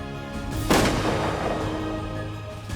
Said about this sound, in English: I always want to shoot the guns